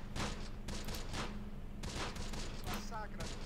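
Scattered rifle and machine-gun fire crackles in bursts during a Close Combat: The Bloody First battle between Italian commandos and American troops, fairly faint and distant, layered over a steady low background rumble.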